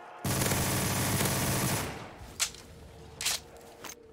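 An MP7 submachine gun in Black Ops 3 Zombies fires a rapid, loud burst for about two seconds, then a few short, sharp cracks follow with pauses between them.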